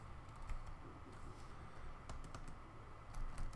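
Quiet, close keystrokes tap on a computer keyboard in short irregular runs against faint room hum, with no talk.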